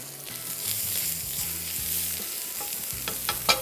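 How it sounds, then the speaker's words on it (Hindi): Kebab meat fries in a pan as its fat melts, giving a steady close sizzle with repeated stirring scrapes and a few sharp clicks near the end, with no voices. "और अब हमने थोड़ा सा इसको फ्राई करना है, हल्का से चर्बी मेल्ट होगी"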